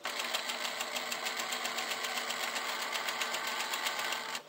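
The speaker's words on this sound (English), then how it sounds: "we're going to stitch 1/16 away from the very edge" A sewing machine runs steadily, edge-stitching the underlap of a sleeve placket 1/16 inch from the fabric edge, a close, even mechanical whir with a rapid needle patter and no speech.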